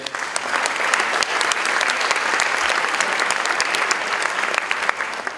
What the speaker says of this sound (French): Ah, on peut les applaudir aussi, allez.